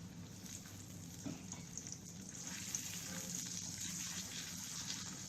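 Veg lollipops shallow fry in oil in a pan, giving a steady, even sizzle and crackle that holds at moderate loudness with no talking.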